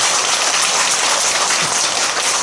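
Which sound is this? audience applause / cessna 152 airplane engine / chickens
audience applause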